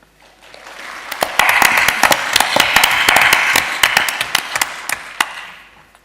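A conference audience claps after a presentation on hospitals and hospices: dense applause swells up, holds steady with a few sharp individual claps standing out, then fades away, with no talking.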